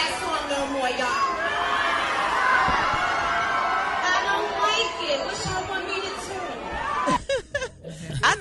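A concert crowd reacts to a singer with loud, steady chatter and murmuring, building slightly before scattered shouts and sharper bursts near the end.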